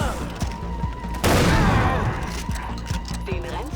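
Rapid gunfire from Far Cry 3 Blood Dragon aimed at running zombies' heads: a string of sharp, evenly spaced shots, then a loud, dense blast of fire near the middle, followed by more steady shots, all close and prominent.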